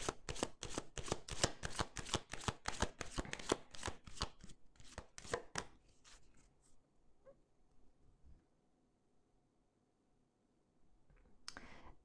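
Tarot cards being shuffled, a fast run of crisp, evenly spaced riffling snaps for about six seconds, then near quiet with faint handling noise and a short rustle at the very end.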